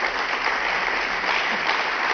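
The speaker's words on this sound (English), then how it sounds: "Can we just give a round of applause again to Zhao Yunlei and Wei Wen?" A crowd at an on-court badminton event gives a steady round of applause, dense and even clapping that fills the short moment with no voices over it.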